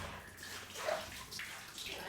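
Hot water pours from a geyser-fed tap into a bathroom bucket or tub, a close, steady splashing rush that swells and dips slightly, with no voices.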